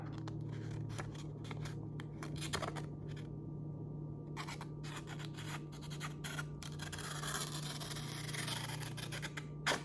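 A knife freshly sharpened on a Work Sharp Ken Onion Edition sharpener slicing through paper, producing repeated close scratchy cuts and rustling over a steady background hum.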